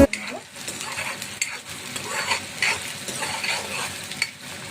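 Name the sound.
onion frying in a pan for garlic dal fry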